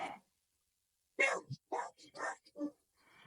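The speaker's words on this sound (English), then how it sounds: "this is my dog who's not happy with something again" A pet dog barks and whines nearby indoors, several short sharp yips and grumbling barks in an uneven burst after a brief one at the start.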